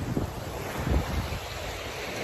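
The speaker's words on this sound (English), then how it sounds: "A little breezy today. Got some good choppy waves." Choppy lake waves slap and wash on a breezy day, with gusting wind rumbling across the microphone in a constant rushing wash.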